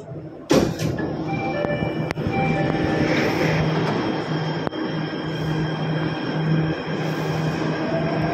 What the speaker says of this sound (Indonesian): Kebetulan di sebelah sana juga lagi ada MRT yang berjalan.